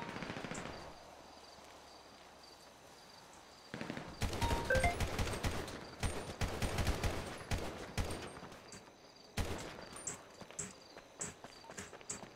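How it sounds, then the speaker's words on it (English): Gunfire in a GTA V police roleplay shootout: quiet background with insect chirps, then bursts of rapid shots and scattered single cracks, with a second volley near the end; no talk. "Shot them subject multiple times."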